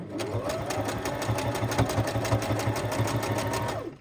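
A sewing machine stitches fabric pieces for cluster tag toppers in a fast, even mechanical chatter that runs close and loud before stopping abruptly at the end.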